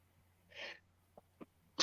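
A single human sneeze bursts out close and fairly loud in a quiet room, followed by a couple of short sniffs or breaths and then a sudden louder sound at the end.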